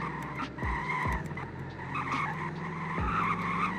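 A Bugatti Veyron or Koenigsegg Regera supercar slides through a corner in Greenville, Wisconsin, its tires skidding and squealing in a sustained screech over low engine drone, with brief thumps along the way.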